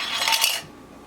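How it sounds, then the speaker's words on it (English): A short bright rattle of shaken tea poured over ice cubes for boba tea, clinking briefly for about half a second before fading out. "So then we pour in our shaken mixture."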